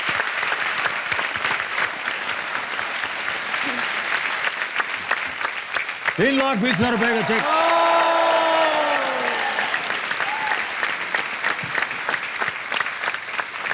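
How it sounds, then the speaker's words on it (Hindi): Studio audience applause on a television quiz show, loud and sustained across the whole stretch, with a host's voice and a brief musical sting rising over the clapping midway. "तालियां जोरदार से बज जानी चाहिए उनके लिए"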